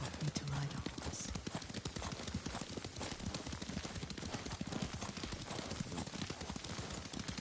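Rhythmic clip-clop of horse hooves as a rider travels along in Ghost of Tsushima, steady and continuous, mixed under spoken dialogue and ambient game sound.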